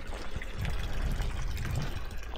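A hiker refills a water supply on an April walk in the Vosges mountains: steady splashing, running water fills the whole short stretch, close and fairly loud.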